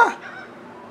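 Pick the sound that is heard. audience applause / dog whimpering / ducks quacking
ducks quacking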